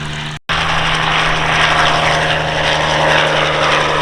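A Bell 47 helicopter flies a hover and wingover display at the East Kirkby airshow, its loud, steady engine and rotor drone close and continuous after a brief cut at the start.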